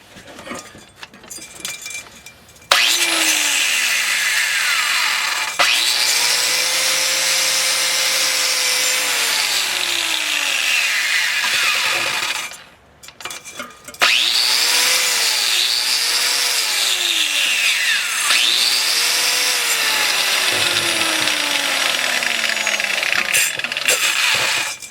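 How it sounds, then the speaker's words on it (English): An angle grinder fitted with a large wire wheel scrubs the V grooves of a belt pulley on an '82 K30 truck, a loud continuous whirring scrape with the motor spinning up and winding down, pausing briefly midway before resuming. "So I finally remembered my angle grinder, and I have this big nasty wire wheel on it."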